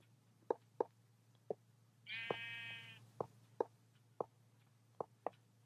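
A sheep in Minecraft bleats once in a long wavering cry, surrounded by a series of short sharp clicks or taps over a steady low hum.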